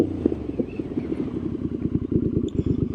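A Triumph Street Scrambler 900 motorcycle engine runs near, with a loud throbbing pulse that quickens into rapid choppy bursts like bouncing off the rev limiter, and no voices.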